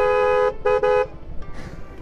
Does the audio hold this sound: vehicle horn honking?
yes